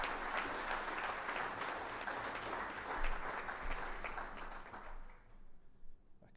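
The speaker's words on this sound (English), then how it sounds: "can everyone give Victor a round of applause" Loud burst of crowd applause at a student awards ceremony, sustained clapping from many hands that fades out toward the end.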